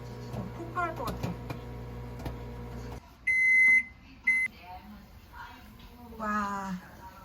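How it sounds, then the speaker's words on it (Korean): Popcorn pops in a running microwave oven over a steady low hum, with scattered sharp pops for about three seconds. Two loud electronic beeps follow, and voices talk between and after them. "팝콘 튀기고 있어요."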